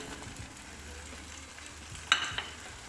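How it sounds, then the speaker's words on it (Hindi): Whole cloves, cinnamon, black pepper, black cardamom, nutmeg and mace roasting in a pan, giving a soft steady sizzle with a few brief scraping stirs near the end, and no voice. "और इनको थोड़ा सा भुनेंगे। इनको हमने 1-2 मिनट भुनना है मसाले को।"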